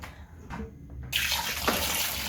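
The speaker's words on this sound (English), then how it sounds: "now we are rinsing once more to get that starch all out" Tap water gushes onto potatoes in a kitchen sink as they are rinsed of starch, starting with faint handling sounds before a strong steady stream runs loudly to the end.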